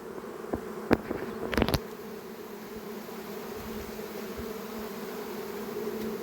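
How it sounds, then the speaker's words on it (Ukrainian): Honeybees hum steadily around an open hive during queen rearing as the beekeeper removes bees, a constant close buzz with a few brief knocks and rustles near the start. "І йдемо відбирати бджіл."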